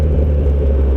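A Kawasaki Ninja ZX10R liter-class superbike on the road gives a close, heavy, steady engine rumble, with no voices.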